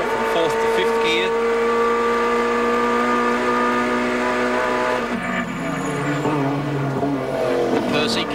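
A 1991 touring car at Sandown, climbing the hill on the back straight, revs hard in a loud, steady engine howl, then shifts from fourth to fifth gear partway through and the pitch drops before rising again.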